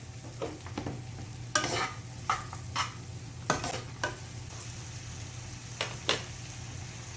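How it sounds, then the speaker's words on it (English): Mushrooms sautéing in a pan with a soft, steady sizzle, punctuated by several sharp scraping strokes of a utensil stirring them. "I'm going to go ahead and get those sauteed up."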